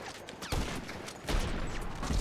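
Two loud gunshots from a heavy sniper rifle in GTA Online, fired about a second apart, each with a sharp broadband crack and a lingering rumbling tail.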